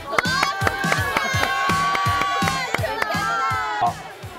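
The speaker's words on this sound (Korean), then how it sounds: "박수!" Students cheer and clap after a first-place prize is handed out during a youth program activity, loud crowd shouts riding over steady rhythmic clapping for several seconds before it tapers off.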